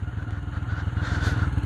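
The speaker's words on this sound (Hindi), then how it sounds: "यहाँ पर बाइक रोकते हैं" A motorbike idles on a rural road in the Kallar Syedan area, its engine putting out a steady, close, low rhythmic chugging throughout.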